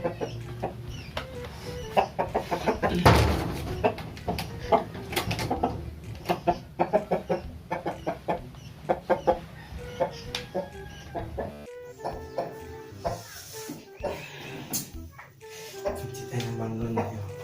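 A rooster crows amid a busy outdoor scene, with clucking fowl and a dog barking nearby; short loud calls and bursts recur over a noisy background, and people talk at moments.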